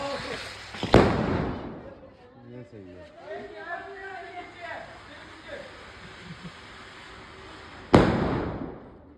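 Two sharp Diwali firecracker blasts go off outdoors, one at the start and one near the end, with people chattering and calling out in between.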